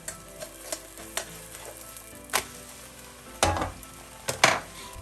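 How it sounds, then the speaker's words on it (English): An egg wrap for omurice fries in a pan, a low steady sizzle broken by several sharp clicks and scrapes of a utensil against the pan; close and fairly quiet, no voices. "So here we're only gonna fry another side for about 45 seconds."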